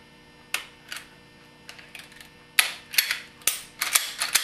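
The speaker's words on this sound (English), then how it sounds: "I'm just going to reinstall the slide assembly onto the pistol." A pistol's slide assembly is slid back onto the frame during a hard sear install, giving a series of sharp metallic clicks and scrapes, a few isolated at first and then a quicker cluster of rattling snaps near the end.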